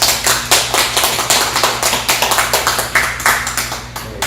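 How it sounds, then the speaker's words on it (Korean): A graduation worship service at a theological institute, where a small group claps near the microphone in loud, distinct beats at an uneven rhythm that runs without a break for the whole span. "박수 소리가 여기까지 들리는 것 같습니다."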